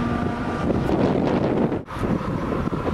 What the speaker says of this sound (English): it's so loud and windy out here